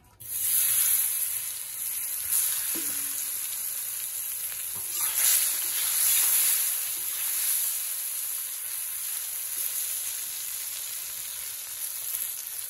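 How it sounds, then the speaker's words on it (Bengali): Snakehead (shoal) and koi fish fry in hot oil with a loud, continuous close sizzle that swells and settles in waves, with a few faint clatters of a utensil and no talking. "ভাজা হয়ে যাচ্ছে শোল মাছ আর সাথে কই।"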